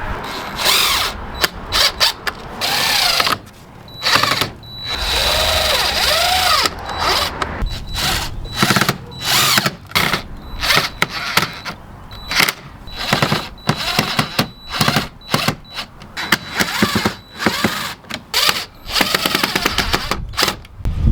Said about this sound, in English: Now we're gonna go through and just screw it on, keep it in place